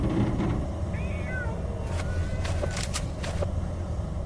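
A mutant cat named Bayun from the S.T.A.L.K.E.R. game lets out a brief, wavering meow that resembles a child crying, followed by a few sharper cries over a low, constant rumbling background.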